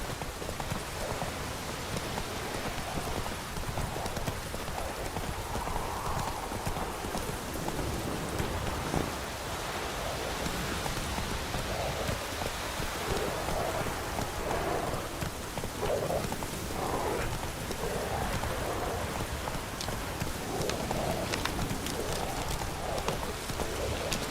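Horse galloping across open ground in The Witcher 3 during steady rainfall, hoofbeats faint and blended into a dense, continuous rain hiss with no speech.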